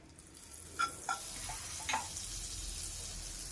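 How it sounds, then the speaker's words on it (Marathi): Butter heats in a pan before bread is toasted, making a faint, soft sizzle with a few small ticks and pops near the start, quiet and close with no talking. "ब्रेड भाजून घेण्यासाठी एक पॅन गरम करायला ठेवली आहे। थोडंसं यामध्ये बटर टाकून घ्यायचे।"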